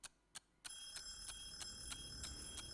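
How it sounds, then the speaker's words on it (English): An alarm clock in the video game Bad Dream: Fever rings out after two sharp clicks, a bright metallic ringing that keeps going with a steady pulsing rhythm. "The alarm clock has done something."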